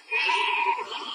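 A sheep bleats in the Skylanders Swap Force video game, one sustained, wavering call lasting about a second, loud and alone in the mix.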